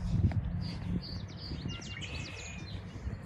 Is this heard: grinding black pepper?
no